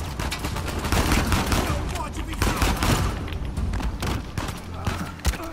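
Dense, continuous gunfire from the PlayStation 4 action game Uncharted 4, with bursts of shots and booms loud and close throughout a chaotic firefight, with a player talking over it.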